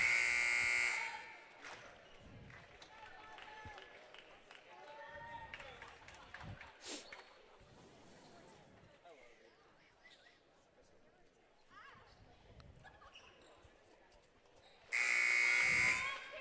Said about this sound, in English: So there's the buzzer, and we're going to start back up.